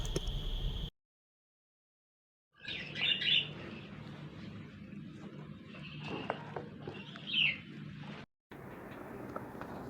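A newly delivered pet cockatiel chirps in sharp, bright bursts, with a couple of louder calls standing out over steady low background noise, after a short silent gap near the start.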